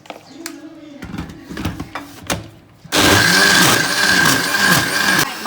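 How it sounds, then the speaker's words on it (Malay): An electric blender starts up after some clattering and handling noises. It then whirs loudly and steadily as it purees cendol batter with water. "Blender halus."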